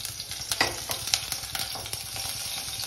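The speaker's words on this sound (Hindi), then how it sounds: "अब मैं इसमें मिर्ची डालूंगी।" Green chilies frying in hot oil in a wok give a steady, close sizzle with occasional louder crackles and spits, heard alone throughout.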